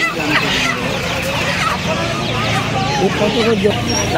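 White and black Silkie chickens cluck and squawk in a busy Uluberia poultry market, with several birds calling close by over continuous chatter from people nearby.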